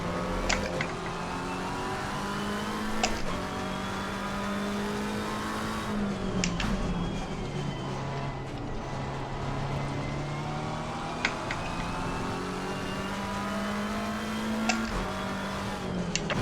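McLaren GT3 race car engine in the ACC racing game, revving up and down through repeated gear changes, rising whines cut by sharp shifts, with other cars roaring nearby.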